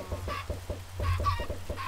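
Minecraft chickens cluck in a steady, quick run of short pulses, with two brighter squawk-like clucks mixed in, close and moderately loud, with no voices.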